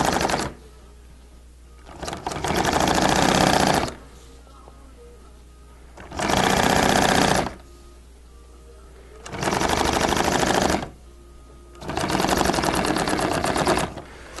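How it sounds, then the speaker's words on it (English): A sewing machine stitches two pieces of acrylic fabric together in four loud, steady bursts of rapid mechanical clatter, each lasting about two seconds, separated by quiet pauses with faint background noise. "I'm going to stitch both pieces together."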